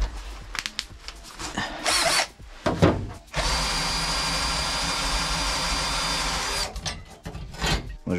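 Spot weld drill bit boring through a welded joint in sheet-metal car bodywork, heard as a loud, steady high-pitched whine lasting several seconds, preceded by shorter bursts of drilling and scraping.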